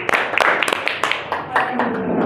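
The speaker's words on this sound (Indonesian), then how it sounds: "Ya, tepuk tangan." A classroom applauds after a group presentation, scattered claps with distinct individual hits over a couple of seconds, fairly close, with some voices in the room.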